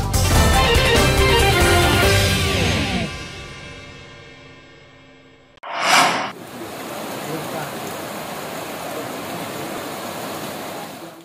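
Heavy rain pours in Aceh Tenggara during flooding that broke a river embankment, a dense, steady hiss that takes over after a fading musical passage and a sharp swoosh.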